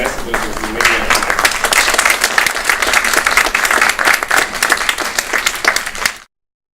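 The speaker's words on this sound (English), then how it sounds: "the organizer deserve a really a round of applause" A film festival audience applauds the organizers, loud, dense clapping from a full room that swells and holds steadily for about six seconds before cutting off abruptly.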